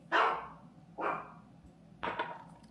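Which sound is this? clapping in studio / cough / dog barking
dog barking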